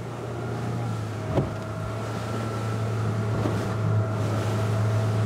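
A 2021 Saxdor 200 Sport boat runs steadily under engine power, plowing into the wake thrown up by a Riviera M430 power boat. The low motor drone is continuous, with wind rush on top and one brief thump of water early on.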